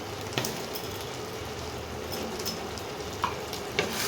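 Ground coriander and cumin sizzle steadily in hot oil in a pan, a dense close frying hiss broken by a few soft scraping stirs, with no voices.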